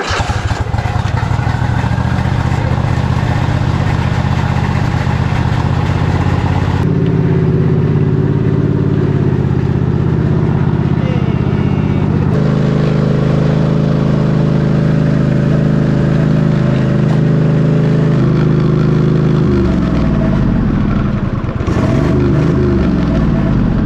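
An old riding lawn mower tractor engine runs loudly and continuously, close by, shifting in pitch and load several times as it idles and revs.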